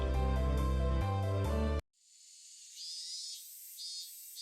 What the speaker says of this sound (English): Cicadas.